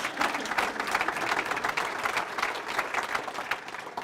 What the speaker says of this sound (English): Yeah, that deserves some applause.